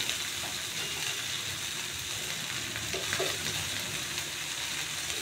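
Chopped fenugreek leaves and crushed peanut powder sizzle and fry in a pan, a steady close crackle with occasional stirring scrapes throughout.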